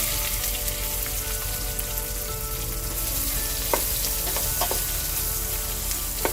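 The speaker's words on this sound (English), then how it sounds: "Saute this really well till your onions are translucent and light brown." Onions sautéing in hot oil with popping mustard seeds for an Andhra fish curry, giving a dense, continuous sizzle with occasional crisp pops and stirring taps, close and without voices.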